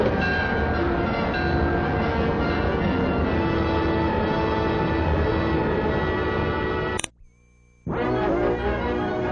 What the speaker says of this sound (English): Now the clipper goes speeding under electrical power.